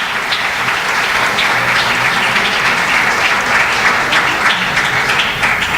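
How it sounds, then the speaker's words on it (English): Steady, dense applause from a conference audience at the close of an energy integration meeting, a continuous even roll of clapping at moderate loudness with no voices over it. "Once again, a round of applause for everybody."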